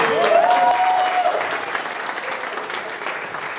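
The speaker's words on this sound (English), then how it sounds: "we should give a round of applause" Applause from wedding guests after the speeches, a dense burst of clapping that starts strong and holds steady for several seconds. A thin whistle or cheer rises briefly near the start.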